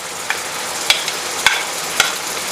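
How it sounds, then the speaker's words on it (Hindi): Onions tumble into beef frying in a pot, giving a loud, close sizzle with a few sharp stirring clacks spaced roughly half a second apart. "ये आधी प्याज हम अभी डाल देंगे साथ ही"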